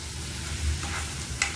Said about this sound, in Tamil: இது வெங்காயத்தோட இந்த பூண்டு நல்லா வதங்கணும்.